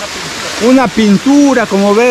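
A waterfall at Los Peroles de Oro gives a steady, broad rushing wash that runs continuously beneath a person talking close by.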